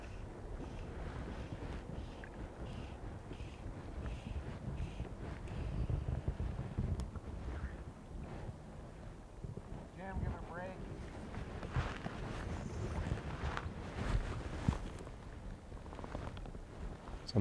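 Wind gusts across the Henry's Fork river during fly fishing, a steady low rumble buffeting the microphone with brief quieter lulls.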